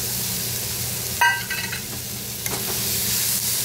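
Onion and tomato sautéing in a pan for baingan bharta, a constant loud sizzle with a few sharp spatula scrapes and clinks, close up and with no voices.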